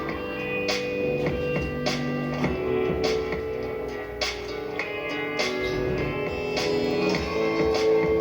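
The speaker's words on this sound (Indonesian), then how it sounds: "suara bassnya sudah keluar" Music plays loud and continuous through a speaker driven by a DIY TPA3110 stereo amplifier with tone control on a 12-volt supply. The bass control is turned up, and low notes sit under steady melody and percussion.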